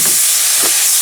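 Red wine hitting a hot pan of greens, giving a steady, close sizzling hiss that holds evenly through the short moment with no voices.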